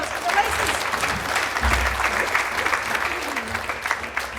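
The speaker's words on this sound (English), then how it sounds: "Big round of applause for the races." Conference audience applauding with steady, dense clapping throughout, fairly loud and sustained with a faint low rumble, no speech over it.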